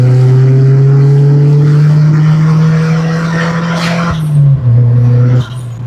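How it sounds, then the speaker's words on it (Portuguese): A turbocharged Audi running on ethanol with a T5000 Inject setup accelerates hard in third gear, its loud engine drone climbing steadily in pitch before dipping at a brief lift and dropping away near the end. "Terceira marcha, vou afundar o pé."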